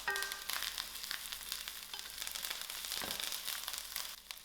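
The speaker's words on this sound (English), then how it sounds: "I'll allow this to fry a little" Ginger, garlic, thyme, curry leaf and cinnamon sticks fry in a pan for mutton curry, a faint, even, close sizzle that carries on unbroken with no voices.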